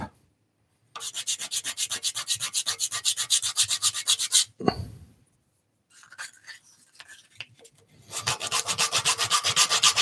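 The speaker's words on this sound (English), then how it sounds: "He's asking what scroll saw you're using today, Ben." An Axminster Trade 406 SS scroll saw cuts wood in rapid rhythmic rasping strokes, loud and close, with pauses between bursts of cutting and a brief thud in the middle.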